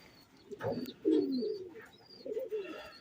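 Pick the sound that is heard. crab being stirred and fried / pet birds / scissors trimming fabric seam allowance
pet birds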